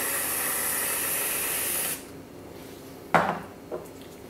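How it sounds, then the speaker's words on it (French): Whipped cream sprayed from a can onto a pumpkin spice latte, a steady close hiss lasting about two seconds before cutting off, followed by a couple of faint clinks. "Je viens rajouter de la crème fouettée."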